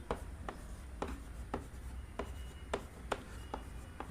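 Pen writing on paper while working a Class 9 lines-and-angles geometry exercise, heard as quiet, repeated short scratchy strokes at a steady pace with no talk.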